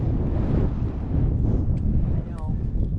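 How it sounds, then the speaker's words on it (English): Strong wind buffets the microphone on an exposed Appalachian Trail stretch in the Roan Highlands, a loud, low rushing roar with a brief faint sound near the end. "If you couldn't hear over the wind"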